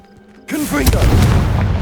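A Confringo blasting spell in the Hogwarts Legacy video game sets off a sudden loud, close explosive boom with crackling debris. A single brief voiced incantation is heard just before.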